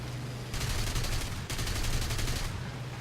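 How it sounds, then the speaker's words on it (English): Machine guns fire from a German fighter plane in War Thunder: two fast, rattling bursts, each about a second long, cut through steady engine drone. "Get a couple of shots in."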